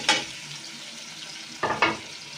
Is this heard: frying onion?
yes